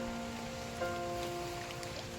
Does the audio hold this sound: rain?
yes